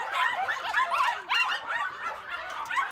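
Caged dogs in a puppy mill yip, whimper and bark in overlapping bursts. Several animals sound at once at moderate distance, with short pauses between clusters of cries.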